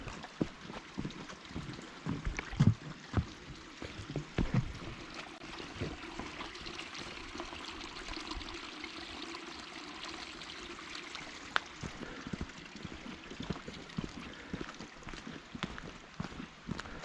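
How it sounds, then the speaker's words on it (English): A small creek flows along a hiking trail on the west side of Cougar Mountain, a soft continuous trickle of water with a few faint knocks, no voices. "Little creek."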